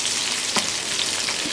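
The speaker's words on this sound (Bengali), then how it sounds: "পেঁয়াজ কুচি দিয়ে দিচ্ছি।" Chopped onion drops into hot oil already holding cinnamon, cardamom, cloves and black pepper, producing a loud, dense, steady sizzle with a brief spike as it lands.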